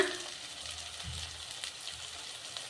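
Masala sizzles softly in a pan while okra gravy is made with garam masala and salt, a faint steady crackle with a few low stirring thumps, no voices.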